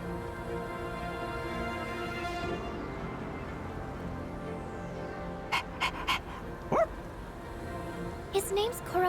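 A dog in the video game Persona 3 Reload barks and yips a few times in short bursts late on, with panting and background music throughout and characters talking.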